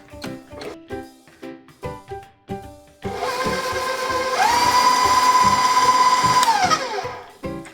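A stand mixer or electric mixer beats eggs, added one at a time, into white sheet cake batter with sugar, a steady loud motor whine rising in pitch as the speed is turned up, after softer rhythmic thumps of beating, then winding down.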